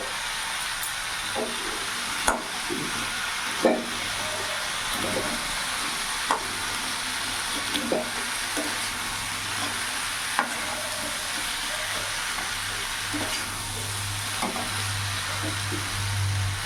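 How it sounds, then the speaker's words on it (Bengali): Pre-fried heads are fried and stirred in a curry pan, giving a steady low sizzle with occasional scraping knocks of the spoon against the pan. No one speaks. "এবার ভেজে রাখা মাথাগুলো আমি দিয়ে দেবো একটু ভেজে দেবো"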